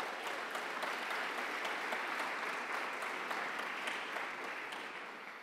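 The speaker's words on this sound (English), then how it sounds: "we should give Randy a round of applause for getting us off here" Sustained applause from an audience at a New Jersey sustainability summit, a dense steady wash of many hands clapping throughout, fairly distant and tapering slightly at the end.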